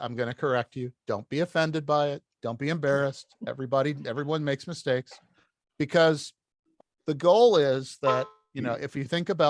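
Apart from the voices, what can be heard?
No everyday noise stands out behind the speech.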